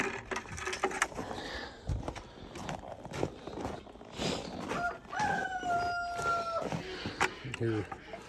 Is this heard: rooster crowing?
yes